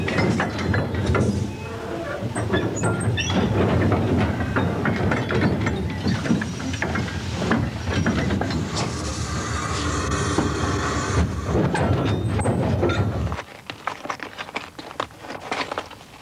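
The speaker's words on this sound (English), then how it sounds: "the engines that pulled and pushed and shunted up and down, to and fro, were the real strength of the railway system" A steam locomotive hauls a train of freight wagons along a railway, giving off loud, continuous rhythmic clanking and rattling of running gear and couplings that cuts off abruptly near the end, leaving quieter residual sounds.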